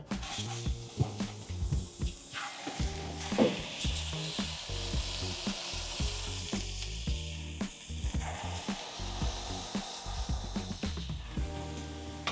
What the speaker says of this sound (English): So let's go ahead and get our burgers on the flat top.